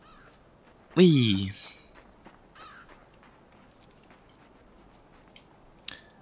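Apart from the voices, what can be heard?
crow cawing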